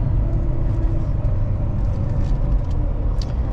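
A truck engine drives along a road, a steady loud low rumble filling the whole stretch with faint higher rattles and one brief hiss near the end, no talk.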